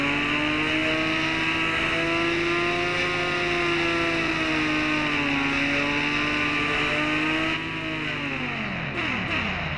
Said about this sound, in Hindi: अपन ने अपनी घोस्ट राइडर बाइक से तेजी से हवा दी है